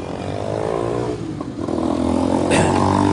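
A motorcycle engine revs and accelerates close by in traffic on a bridge in Jérémie, Haiti, its loud buzzing drone rising, with some rattling and scraping mixed in.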